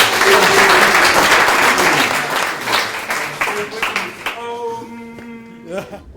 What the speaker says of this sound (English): Give it one more clap.